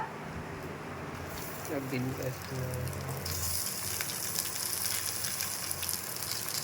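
Potatoes frying in a pan at home, a soft crackling sizzle that grows into a dense, steady hiss partway through, with someone talking over it.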